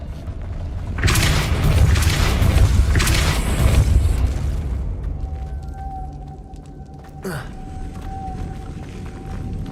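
The Depulso spell cast in Hogwarts Legacy produces a heavy booming magical blast lasting several seconds, followed by a mechanical hum and a sharp sweeping whoosh, while a voice talks throughout.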